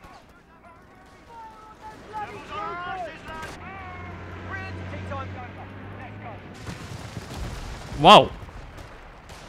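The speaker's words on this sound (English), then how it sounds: "Airstrike incoming!" An airstrike hits in the Company of Heroes 3 Italian campaign, rumbling battle noise building to one sharp, loud blast near the end while someone talks over the game.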